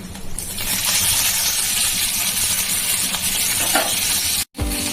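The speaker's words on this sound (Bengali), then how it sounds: "ভেজে নিলাম ঘিয়ের উপরে" Small pieces of food fry in ghee, giving a loud, steady nearby sizzle with soft stirring scrapes that cuts out abruptly near the end and then returns.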